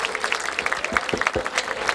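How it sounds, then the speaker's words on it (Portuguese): A crowd at a rap battle event in Barueri, São Paulo, breaks into lively applause, with sharp, distinct claps and a few low thumps throughout, close and energetic, and no voices over it. "Palmas pra essa batalha!"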